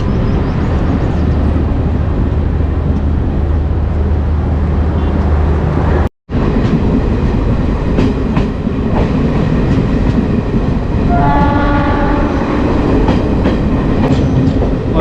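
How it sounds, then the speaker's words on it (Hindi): A DEMU passenger train pulling out of Hajipur Junction rumbles and clatters steadily with rhythmic wheel clicks on the rails, loud and close, broken by a brief dropout, with a faint horn-like tone later on. "पूरे 5 मिनट के हॉल्ट के बाद अपनी जो ट्रेन है वो हाजीपुर जंक्शन से निकल चुकी है"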